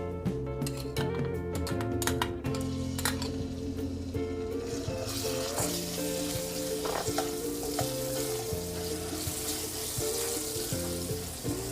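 Hot fermented bean sauce sizzling and frying in a pan for chicken mapo tofu, a steady loud sizzle with occasional stirring scrapes and utensil clinks, close up and without talk.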